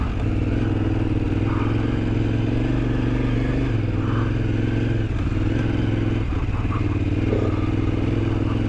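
Motorcycles ridden by a group of friends across sandy desert terrain in Morocco, a continuous loud engine drone that is close and steady throughout, with faint clattering and scraping over it and no talk.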